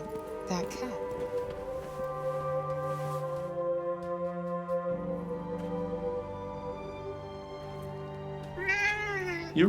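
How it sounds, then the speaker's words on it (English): Cat meowing in the Forspoken video game, a drawn-out, close meow running for several seconds over steady background tones, with a second sharp meow near the end. "Hey, that cat."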